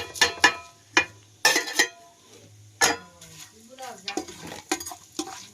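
Pulao spices frying in hot oil in a pan, with sharp intermittent scraping and stirring clatters of a spoon against the pot over a low sizzle, close and fairly loud, with someone speaking in between.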